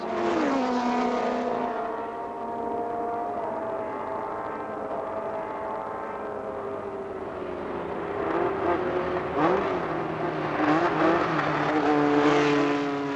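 Racing cars on a circuit in a Canadian motor race, two leaders battling, engines droning steadily with rising and falling pitch sweeps as cars pass, loud and continuous with no talk.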